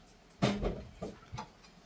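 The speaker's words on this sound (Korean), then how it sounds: "이제 우리 옆지기가 지금 가지를 자르고 있는데요" Homegrown eggplant roughly chopped with a knife on a board, giving three short, close thunks spaced about half a second apart against a quiet room.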